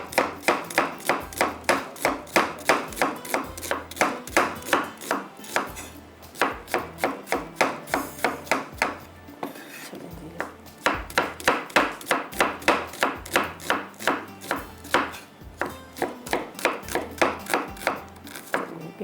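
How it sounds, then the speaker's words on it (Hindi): Onion is sliced with a knife on a cutting board in quick, even, rhythmic chops, loud and close, with one short pause midway before the steady chopping resumes. "प्याज हमने स्लाइस में कटिंग किया"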